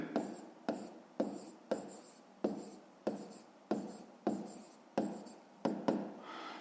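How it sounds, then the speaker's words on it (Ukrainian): Pen strokes on paper during a fifth-grade math exercise, about ten quick scratchy bursts in an uneven rhythm, close and quiet, with no talking. "записуємо відповідь"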